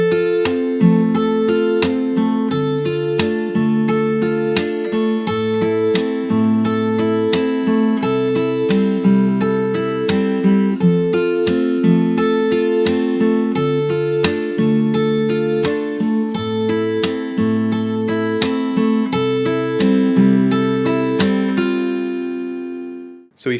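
Fingerstyle acoustic guitar plays the intro of a song, clean plucked notes in a steady, gently rolling pattern over changing bass notes, continuous and close before the last chord rings out and fades.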